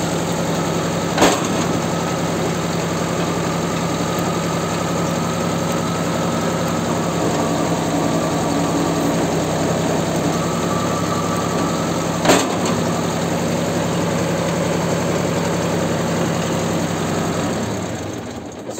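A Star MRB 0840 baler runs steadily with a loud, even mechanical engine drone and vibration, punctuated by two sharp clunks, before winding down at the end.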